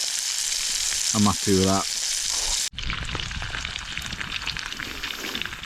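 Garlic butter steak sizzles in a small pan outdoors on a fell summit, a steady crackling fry that continues after a sharp cut, with someone speaking briefly over it near the start.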